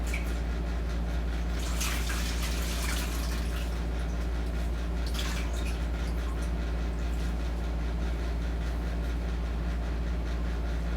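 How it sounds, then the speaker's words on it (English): Towel being rinsed in a basin of water during a bedside bed bath, giving two brief bursts of splashing and wringing over a steady low background hum. "I will now rinse the towel and wash his face."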